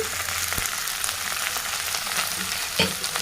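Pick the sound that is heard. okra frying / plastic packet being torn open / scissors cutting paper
okra frying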